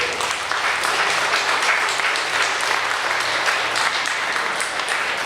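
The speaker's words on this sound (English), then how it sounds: "Give yourself an applause for even coming here." A seated audience at a talk breaks into sustained, even applause, a dense wash of many hands clapping close by with no pause.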